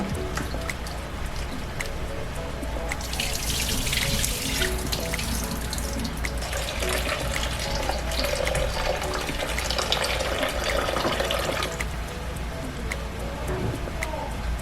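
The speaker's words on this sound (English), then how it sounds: "we're just gonna rinse our rice here." Running water pours and splashes steadily over rice being rinsed in a kitchen sink, a close, continuous wash with brief drips, likely with a voice partly over it.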